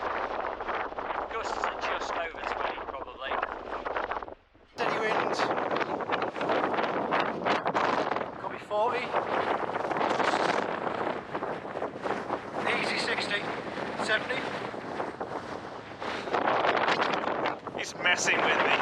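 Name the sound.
steady wind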